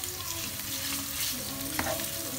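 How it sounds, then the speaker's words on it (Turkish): Tomato paste stirred into meat and onions frying in a pan for a Turkish eggplant kebab, a steady close sizzle with soft scraping stir strokes and a brief sharp clink near the end. "Ve hafifçe karıştıracağız."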